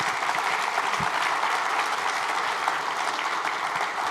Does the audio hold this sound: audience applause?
yes